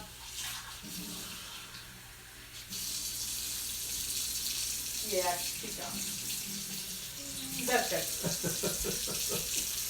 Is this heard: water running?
yes